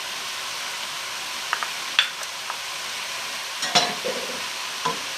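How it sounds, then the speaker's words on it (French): Tomatoes going into a pot of root vegetable and chickpea minestrone, with a soft steady sizzle and a few scattered clinks and scrapes of stirring; no talking. "J'ajoute ensuite mes tomates."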